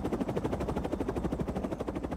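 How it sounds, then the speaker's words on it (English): Rotor chop of a toy RC helicopter in a virtual reality prototype game, a steady, fast pulsing whir looping continuously at moderate level with no talk over it. "the helicopter sound actually doesn't loop very cleanly"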